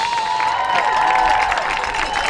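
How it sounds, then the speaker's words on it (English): At a Lebanon High School football game against Anderson, a stadium crowd applauds and cheers for the school's marching band: a steady wash of clapping and crowd noise throughout, with a sustained tone running underneath. "Let's have a nice round of applause for the Lebanon High School Marching Orders"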